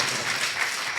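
A brief burst of steady applause from a church congregation at a Sunday worship service, dense hand-clapping at moderate loudness with no speech over it.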